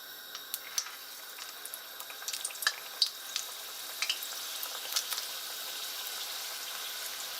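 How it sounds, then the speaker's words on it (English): Javanese egg rolls deep frying in hot oil, giving a steady soft sizzle with scattered small pops and crackles, fairly faint and continuous throughout with no talking. "We're now going to deep fry the egg rolls."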